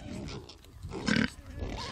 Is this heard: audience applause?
no